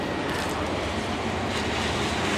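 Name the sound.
train passing through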